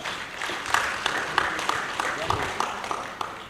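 Applause at a decoration ceremony for newly promoted service officers, a moderate crowd clapping steadily with scattered sharper claps, fairly close and without talk.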